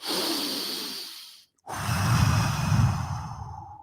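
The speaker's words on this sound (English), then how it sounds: "just breathing like that and calming yourself the fuck down to chill out your central nervous system" A man demonstrates deep calming breaths, a long airy exhale followed by a brief silence and then a fuller, rushing breath, close to the microphone.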